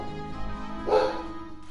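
A pet dog gives a single short bark in the background, faint and slightly distant, with a low hum underneath.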